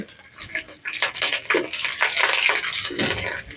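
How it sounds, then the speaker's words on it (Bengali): Bay leaf and green chili tempering sizzle in hot oil for a vegetarian matar paneer, a steady, close crackling hiss with bursts of spitting throughout, no voices. "এই তেলেতেই আমি একটু ফোড়ন দিয়ে দেবো, তেজপাতা আর কাঁচা লঙ্কা দিয়ে দিলাম প্রথমে।"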